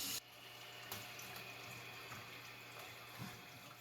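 Toilet flushing with water rushing steadily through the bowl, a continuous hissing wash of water heard close and fairly quiet, with no voices.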